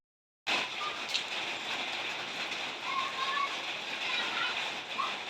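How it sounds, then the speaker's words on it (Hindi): Steady rain falling in an Uttarakhand setting, a dense, even hiss that begins abruptly and continues loud and unbroken throughout, with no voices. "ये देखो बरसात हो रही है।"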